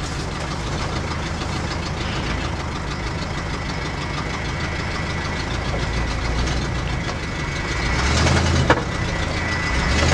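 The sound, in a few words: whining from a 1965 Ford Galaxie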